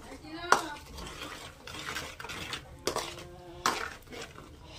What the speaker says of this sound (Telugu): మొత్తం కలిసేటట్టు అయితే ఒకసారి తిప్పుకుందాం